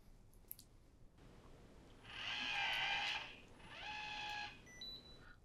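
A Schlage Wi-Fi smart door lock unlocks with a faint click followed by two motorized whirring runs, one long and one shorter, in a quiet room.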